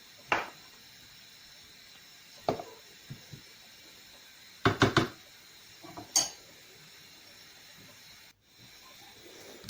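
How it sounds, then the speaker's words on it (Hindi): A spoon scraping and clinking against a bowl while mixing cauliflower and vegetables for pakora, a few sharp scattered taps and scrapes over quiet background hiss. "चम्मच से अच्छी तरह से मिक्स करेंगे।"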